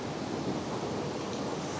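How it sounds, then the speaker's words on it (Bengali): Bhatinda waterfall's water pouring straight down toward the Damodar river, a dense, steady broadband rush heard up close and alone, unbroken for the whole moment. "আর এই ভাতিন্ডা ফলসের জল সোজা নিচে গিয়ে দামোদরে মিশেছে।"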